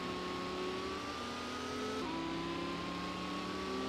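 Race car engines in the Gran Turismo video game, at the start of a 30-lap GT League championship race, rev and accelerate together in a steady, loud whine with pitches rising and shifting, no talk over them.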